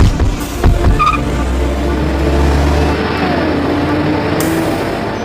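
A car pulls away and drives off with a brief tire squeal, engine noise rising then holding as a loud, close rumble over a few seconds, with a short voice near the start.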